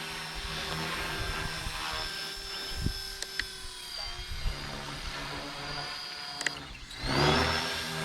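Blade 330S RC helicopter on a 3D flight, its rotor whine steady with sharp flips back and forth, pitch sweeping and surging loudly near the end. No one speaks.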